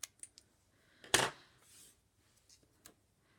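A pair of scissors snips a small piece off a sheet of paper in one crisp, close cut, followed by a soft rustle of paper and a few faint taps in an otherwise quiet room.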